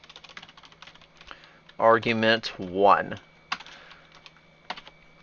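Keys clatter on a computer keyboard while coding a Megaman X platformer, a quick run of light clicks before and after a short stretch of speech, close and fairly quiet.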